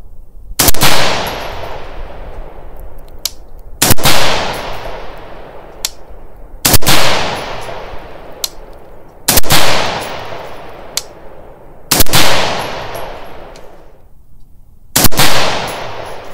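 Six loud rifle shots at a target during an accuracy test with Strike Industries gear, firing 77, 62 and 55 grain loads, spaced about every three seconds, each a sharp crack followed by a decaying echo, with no talk.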